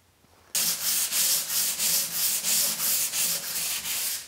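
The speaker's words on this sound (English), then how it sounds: "I'm going to take my hand sander and I'm going to go ahead and smooth out any inconsistencies in the mud" A hand sander scrubs across dried joint compound on a mud-in channel for LED lights, giving loud, rhythmic back-and-forth rasping strokes about twice per second after a short quiet start, close up and with nobody talking.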